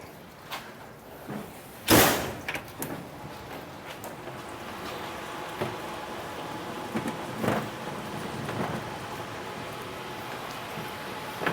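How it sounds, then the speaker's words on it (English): A door swings open at a barbecue restaurant, marked by one loud knock-like burst early on, followed by softer clunks and a steady room hum. "I'll get the door for you, Caleb."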